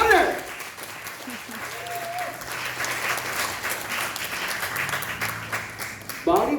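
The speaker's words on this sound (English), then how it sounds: "Round of applause, louder!" Audience applause at a business talk on local green solutions, a broad wash of clapping that swells when the crowd is urged louder and keeps up steadily for several seconds, with a voice faintly audible under it.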